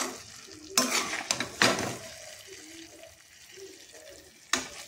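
A thick jaggery mixture for alliv ladoo is stirred in a pan with repeated scraping strokes over a steady sizzling simmer, close and moderately loud, with no talk.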